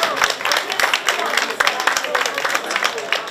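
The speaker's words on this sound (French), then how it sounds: "on peut les applaudir ouais" An audience at a chocolate fair in Agde applauds, with quick, scattered hand claps mixed with voices talking over them.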